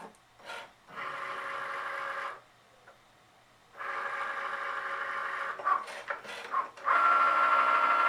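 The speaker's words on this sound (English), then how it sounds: "The machine is detecting which tool it's going to use, which is why you hear the noise in the background." A Cricut Maker cutting machine whirs in several separate bursts with brief quiet gaps while detecting its tool, ending in a steadier, higher-pitched mechanical hum.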